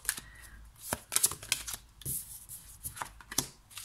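Oracle cards shuffled and drawn by hand in a spring seasonal reading, a run of quick papery riffles and soft slaps arriving in irregular bursts, close and fairly quiet with no talking.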